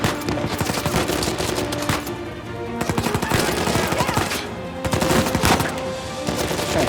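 Rifle fire in the video game Uncharted 4 crackles in rapid bursts of sharp shots over busy game sound, with brief lulls between volleys and no talking.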